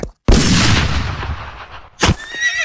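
A horse whinnies in a dubbed Western action scene, following a loud, sudden burst that rings out and fades, then a second sharp hit before a short, high neigh trails off.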